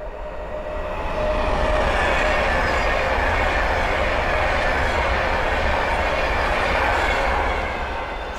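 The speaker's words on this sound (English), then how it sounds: "the next train to pass by is the Adventure West Coast Class 390 Pendolino." A Class 390 Pendolino electric train on the West Coast Main Line at Linslade passes close by, its roar swelling quickly then holding loud, with faint wheel squeal and rhythmic rail clatter.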